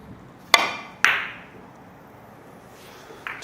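Two soft, sharp clicks of a billiard cue lightly tapping the cue ball in three-cushion play, struck with thick contact and side spin, each click followed by a short decaying ring, then a faint knock near the end.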